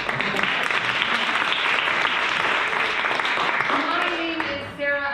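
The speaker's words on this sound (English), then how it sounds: "Give yourselves a round of applause for making it through the door." Audience at a comedy night bursts into loud, dense applause that lasts several seconds, then thins and fades with a few voices at the end.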